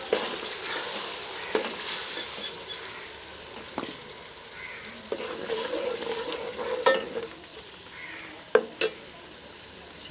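Finely chopped tomatoes fry and sizzle in a pan for a kaddu chicken curry, a moderate crackling hiss with periodic scrapes and knocks of a stirring spoon, no one speaking.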